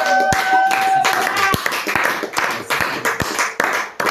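A church congregation clapping together to acclaim the Lord, sharp hand claps in a rough steady rhythm, with voices and a sung tone running beneath.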